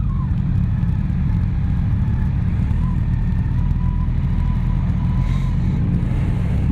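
A Yamaha motorcycle engine, either a 2017 FJR or an FZ-10, runs on a ride with a deep, steady, loud rumble and faint wind noise, and no one speaks.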